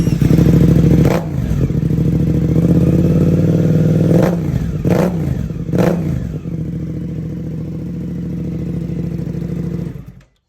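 A Suzuki GSX-8S motorcycle fitted with an Ixil aftermarket exhaust idles and runs up close, loud and steady, with several sharp throttle blips around the middle before it cuts off at the end.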